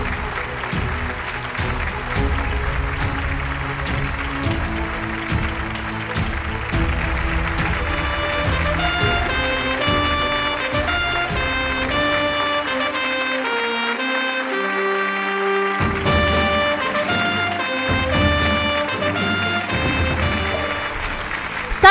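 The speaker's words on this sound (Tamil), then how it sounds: "ஒரு பலத்த கரகோஷத்தோட let's welcome her on stage" Audience applause welcoming an award winner onto the stage at an awards event, steady clapping running throughout beneath loud music with sustained tones.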